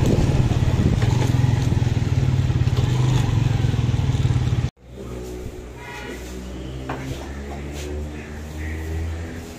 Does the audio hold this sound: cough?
no